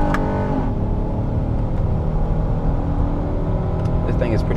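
A 2020 Honda Odyssey minivan's naturally aspirated V6 with a 10-speed transmission hums and revs steadily as the vehicle accelerates, a continuous low drone with rising tone close by.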